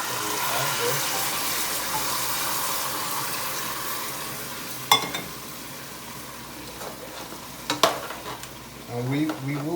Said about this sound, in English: So now we're gonna be adding some more hot water.